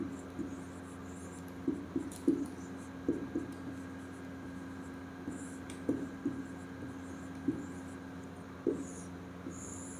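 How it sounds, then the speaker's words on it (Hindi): A pen or marker scratches out short handwritten strokes on a board while a temperature conversion lesson is being explained, with soft, irregular bursts of scribbling against a quiet room hum. "थोड़ा छोटा लिखता हूँ, बड़ा हो गया।"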